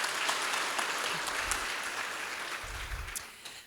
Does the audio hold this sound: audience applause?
yes